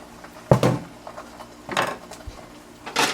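Metal pan lid set onto a frying pan of cooking egg omelet, a sharp clatter near the start followed by softer clanks and rattles of kitchenware, close and fairly loud, no talking.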